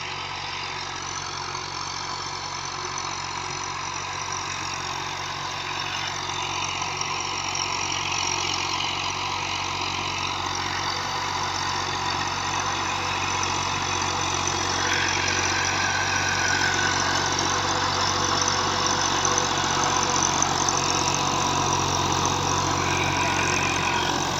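A Massey Ferguson MF 350 tractor, fitted with a rotavator, idles steadily in Punjab, Pakistan, giving a continuous mid-pitched diesel drone that stays close and fairly loud for the whole stretch, with no speech.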